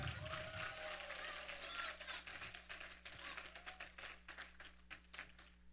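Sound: congregation hand clapping

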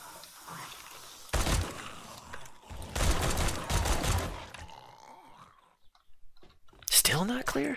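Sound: gunshots in the video game 7 Days to Die

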